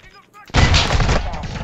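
A loud, sudden burst of dense gunfire in the shooter game Call of Duty: Modern Warfare 2 cuts in right after a brief spoken remark and keeps going in a continuous close-range barrage.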